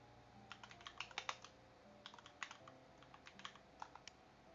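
Quiet, close clicking of keys on a computer keyboard in irregular bursts of fast typing, with soft background hum underneath and no talking.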